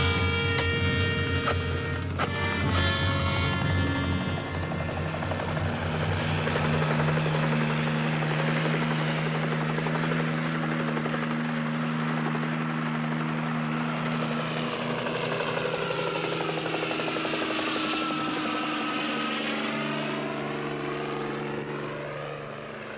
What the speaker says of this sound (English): I think we should send a chopper up there.